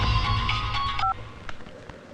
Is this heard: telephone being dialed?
yes